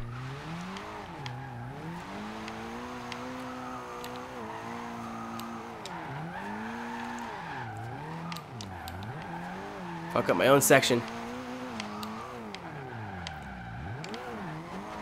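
A Toyota MR-2 SW20 in Forza Horizon 2 revs and shifts through gears, engine note rising and falling, with a brief harsh tire skid midway while someone talks over it.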